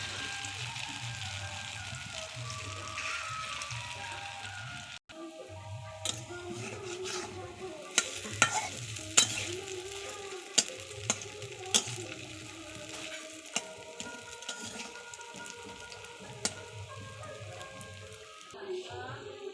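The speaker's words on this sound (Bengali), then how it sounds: "এইভাবে সবগুলো বড়া ভেজে নেব" Bora fritters fry in hot oil in a karahi, a steady bed of sizzling with scattered sharp spatters and stirring scrapes, close and continuous throughout with a brief break near the start.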